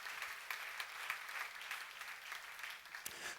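Audience at a church seminar gives a steady patter of applause, faint and distant, running continuously for a few seconds before a sudden close thump at the end.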